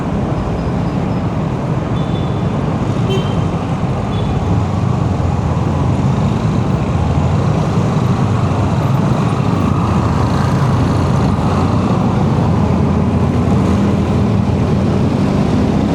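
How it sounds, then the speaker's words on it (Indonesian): Congested morning road traffic dense with motorcycles and cars, a loud, unbroken roar of many engines and tyres close by, steady throughout with no voices. "Tapi masih macet, banyak motor, banyak mobil di sini juga."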